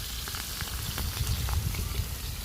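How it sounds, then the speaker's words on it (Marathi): Chopped onion sizzling in hot oil in an iron kadai at an outdoor riverside cookout in the rain, a steady dense hiss of frying with a low rumble beneath and faint stirring scrapes, close and continuous, no talking. "परत कांदा टाकून घेते आणि तेल पण तापलेलं आहे बघा"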